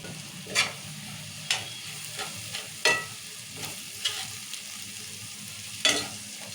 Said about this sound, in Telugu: మంచిగా నూనెలో ఒక రెండు నిమిషాలు మగ్గాలి